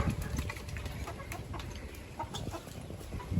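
Chickens cluck and murmur nearby as they feed on scraps, with scattered short calls and some rustling over a continuous outdoor background.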